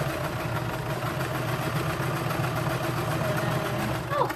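A sewing machine runs steadily while stitching a T-shirt in circles, a continuous mechanical hum with a faint rhythmic pulse held at even loudness throughout, with a brief scrape near the end.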